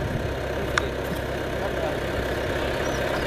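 A forklift engine idles just after starting, giving a steady, even rumble throughout with a brief click near the start.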